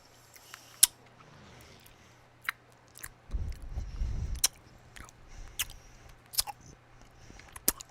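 Close, quiet chewing of chocolate with sharp intermittent bites and crunches, a brief rumbling thump in the middle, no talking.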